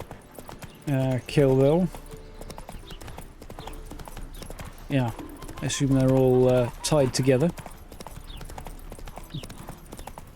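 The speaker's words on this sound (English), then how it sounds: "you hear a horse galloping down the road towards you" Hooves of a horse clip-clop in short bursts in The Witcher 3, with a nearby whinny and a few brief clatters, sounding under steady conversational talk.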